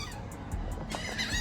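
Birds being fed squabble over scraps of food, giving loud, close honking calls in quick bursts over a steady background.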